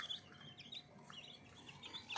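Newly bought baby chicks chirp with thin, high peeps in short, scattered bursts, faint and close, in a quiet home poultry setting.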